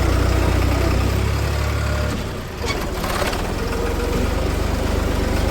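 A tractor engine idles steadily up close in a farm field, a loud low chugging rumble that dips briefly near the middle before settling back.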